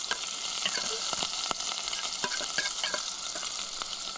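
Drained tuna warming in a pan, giving a continuous moderate sizzle with scattered sharp crackles and pops, close by and with no talking.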